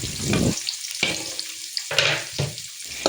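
Chopped onions fry in a pan for veg fried rice, giving a soft, crackling sizzle broken by repeated scraping and stirring bursts about every half second, fairly quiet and close with no talking.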